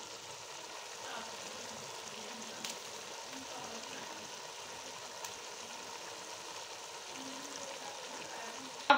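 Potatoes, peas and carrots fry in a pan for a Pakistani mixed vegetable curry, giving a faint, steady sizzle that runs evenly throughout with no pauses.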